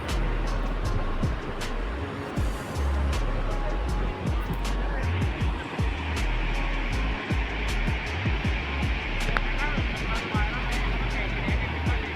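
The Sutlej river rushes at Nangal Dam, a loud, unbroken roar of churning water that fills the whole stretch without pause.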